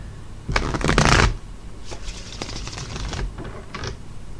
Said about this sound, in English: Shuffle up the cards a bit.